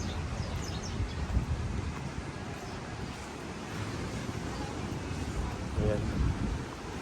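Gusty seaside wind rumbles and buffets the microphone throughout, a steady roar with stronger bursts, in an open outdoor setting right beside the sea.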